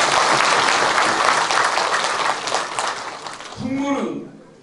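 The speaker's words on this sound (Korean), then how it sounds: "고맙다고 박수 한 번만 해주시기 바랍니다." Audience applauding at the opening ceremony of a folk pungmul contest and traditional ssireum wrestling event in Okcheon, a dense, steady burst of clapping that tapers off as a voice speaks briefly at the end.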